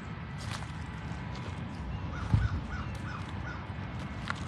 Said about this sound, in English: The crow in the distance saying hello.